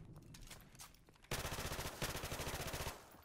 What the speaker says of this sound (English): these people are shooting at something